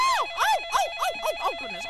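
An electronic desk phone ringtone in a public library trills in a rapid warbling pattern, several quick chirping bursts close by with no voices.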